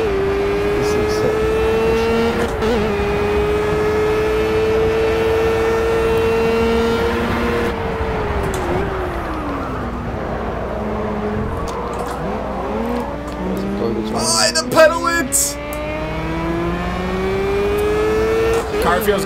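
A Formula Gulf 1000 race car in the Project Cars game on a highway track screams through its gears, the engine note climbing and dropping with shifts, while people talk over it.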